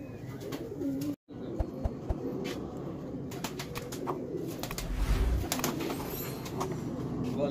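Pigeons at a breeder's loft give soft, low cooing calls close by, mixed with scattered clicks, brief flutters and chirps, with a short silent gap near the start.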